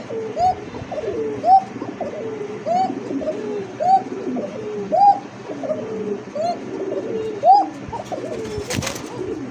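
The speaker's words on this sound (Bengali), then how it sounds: "কবুতর ডাকটা ভাল লাগছে" Pigeons coo repeatedly in soft, rolling phrases, several birds overlapping at a steady rhythm, fairly close, with a brief rustle near the end.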